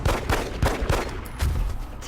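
Gunfire in the video game XCOM Enemy Within, a rapid series of five or six loud, punchy shots in quick rhythm, followed by a heavier blast.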